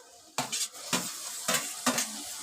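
Tomatoes stirred into frying chicken rassa masala in a pan, bright bursts of sizzle rising and falling in rhythm with four or five scraping strokes of a spoon, with faint utensil clinks.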